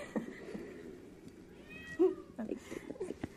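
A short-haired cat gives a meow that stands out over quiet room noise, close to the microphone, followed by a few softer vocal sounds.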